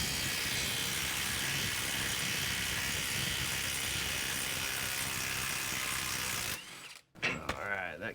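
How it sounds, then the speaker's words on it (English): A breaker bar works loose a stuck 19 mm front lower control arm bolt on a 2009-2015 Honda Pilot, a steady mechanical grinding that runs for several seconds before a short gap and a few sharper scrapes at the end. "I'll get that with my breaker bar."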